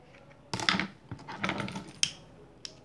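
Scissors cutting ribbon while a bow is being made: several close, crisp snips and rustles in short bursts with brief pauses between them, no voices.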